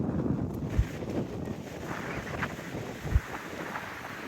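Wind buffets the microphone at a mountain viewpoint on the Appalachian Trail, a steady low rumble with a few sharp gust thumps, no talking.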